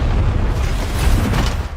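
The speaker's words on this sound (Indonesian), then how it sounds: "sebuah ledakan besar yang menewaskan salah satu dari mereka" A large explosion in a Squid Game season 2 scene, a heavy rumbling blast with a deep roaring body that rolls on loudly for the whole moment.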